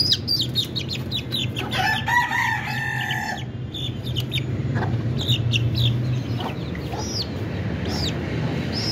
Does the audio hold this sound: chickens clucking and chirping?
yes